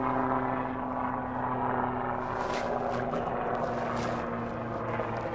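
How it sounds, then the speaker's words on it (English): A police helicopter passes overhead outdoors, a steady droning rotor and engine hum with a low tonal buzz, moderately loud and continuous for several seconds, no talking. "there's a police helicopter going by"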